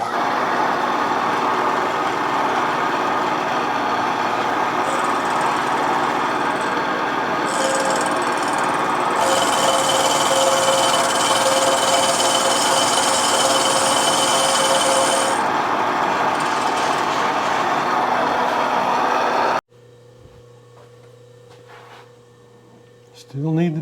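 A milling machine cuts a welded Yamaha DT2-MX motorcycle engine case, giving a steady loud grinding hum with a sharper high whine in the middle. It drops to a quieter background near the end.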